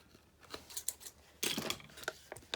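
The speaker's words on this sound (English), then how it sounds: "now we're just going to cut this piece off, cut this piece off" Scissors snip through a piece of craft material in a series of crisp, close cuts, irregular in rhythm with brief pauses between, fairly quiet overall.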